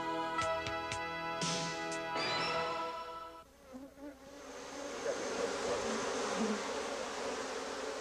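A colony of Apis mellifera honey bees hums with a dense, continuous buzz, many wings whirring close by and steady throughout.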